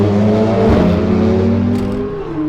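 Members driving their own cars on the track at the M1 Concourse near Detroit, a loud, close engine drone with a swelling rev as one passes, then a steady hum trailing off.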